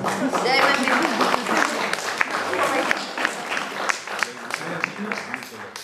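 An audience at a conference in Lille applauds, a dense patter of clapping that carries on steadily for several seconds under a speaking voice.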